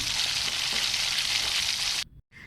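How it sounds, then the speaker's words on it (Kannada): Veg momos fry in oil over a low flame, giving a steady, close hiss and sizzle that cuts off abruptly near the end. "ಕಮ್ಮಿ ಫ್ಲೇಮ್ ಒಳಗೆ ಇಟ್ಟು ಫುಲ್ ಬ್ರೌನ್ ಆಗೋ ತನಕ ಫ್ರೈ ಮಾಡಬೇಕು"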